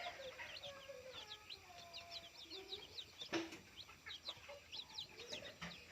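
Kanegro chicks three days old peep and chirp continuously in a dense, high-pitched chorus, with a few fowl clucks mixed in and no talking.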